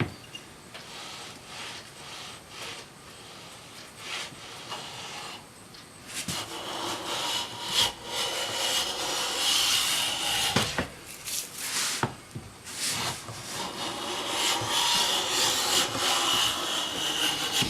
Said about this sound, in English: I'm trying to get as fine a shaving as I can off of here